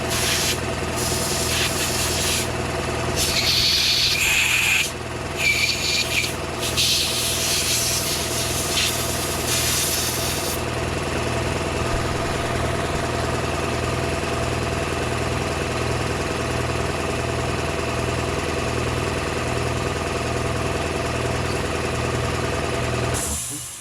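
Compressed air blasts in broken bursts at an AR-15-style Smith & Wesson M&P 15-22 rifle during cleaning, hissing loudly over a steady engine-like compressor drone that runs on alone after the bursts stop.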